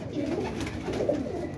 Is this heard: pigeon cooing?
yes